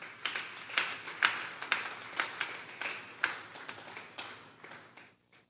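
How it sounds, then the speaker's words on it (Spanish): A church congregation applauds during a Sunday service, a quiet, uneven scatter of individual claps that gradually thins out and fades to near silence. "Vamos a darle un fuerte aplauso pues al Señor"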